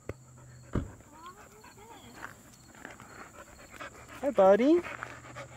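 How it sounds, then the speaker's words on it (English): A dog in an abandoned early-1900s tobacco ghost town pants softly nearby and gives a brief whimper, under a voice talking to it. "Got a random dog here."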